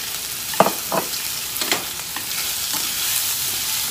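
Peeled, diced and lightly marinated shrimp stir-fried with onion in a hot pan, a steady soft sizzle broken by a few sharp scrapes and stirring clicks, close and alone.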